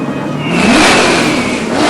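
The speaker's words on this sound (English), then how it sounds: "Gentlemen, start your engines." Indianapolis 500 race car engines rev up loudly in a sustained, rising roar that swells after a brief quieter start and holds steady to the end.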